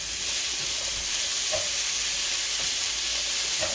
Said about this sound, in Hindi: तो ऑनियन डालते हैं और इनको फ्राई करते हैं पोटैटो के साथ